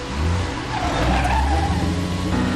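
A stolen car pulls away hard with a loud tire skid and revving engine, close and continuous throughout, with no talk over it.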